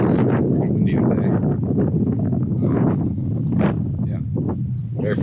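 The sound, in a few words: wind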